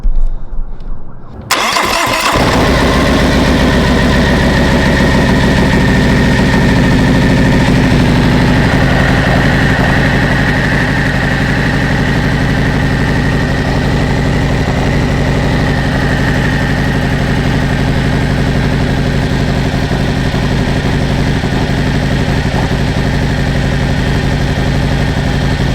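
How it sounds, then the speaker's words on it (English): A Harley-Davidson motorcycle fitted with a see-through primary cover cranks and fires after a moment of quiet, then settles into a loud, close, steady rumbling idle for the rest of the clip. "I'm gonna start the bike."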